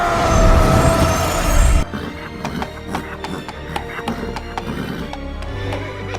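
A horse in the 2017 DuckTales cartoon gives a loud, shrill neigh that lasts under two seconds, then hooves clip-clop in a quick, clattering run as the neigh cuts off.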